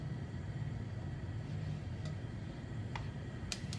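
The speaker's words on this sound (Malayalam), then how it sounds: "കടുക് പൊട്ടി തുടങ്ങിയിട്ടുണ്ട്" Mustard seeds begin popping in hot coconut oil in a pan while a banana stem and green gram stir-fry is being made. A few sharp, faint crackles break through a quiet kitchen background at scattered moments.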